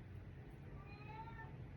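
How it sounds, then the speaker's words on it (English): A house cat gives a single faint, drawn-out meow somewhere nearby in an otherwise quiet room. "You hear that? Yeah, that's my cat."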